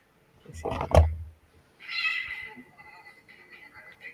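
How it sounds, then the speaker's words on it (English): A house cat gives a loud, close meow in the room, followed by a fainter, higher drawn-out cry under light background noise. "Here's my son's cat."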